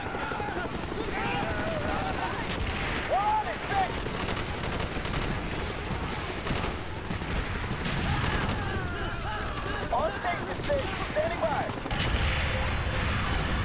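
Rifle and machine-gun fire from M60 and M16 weapons in the Vietnam War campaign of the Call of Duty: Black Ops video game, a steady rattle of shots under continuous battle noise and game speech.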